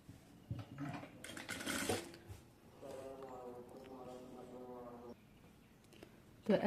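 Sewing machine stitching a designer sleeve, a quiet steady mechanical run for about two seconds after some handling clatter at the start, with soft talk in the background.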